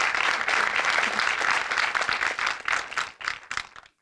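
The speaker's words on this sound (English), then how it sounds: "I want to give our panelists a round of applause." Audience applause for panelists at a women-in-communications event, steady close clapping from a modest crowd that thins and tapers off toward the end.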